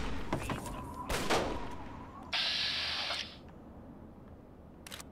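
A player's gun firing in Fallout 3's Point Lookout, a few sharp close shots followed by a sustained hissing, whirring burst, then quieter scattered clicks.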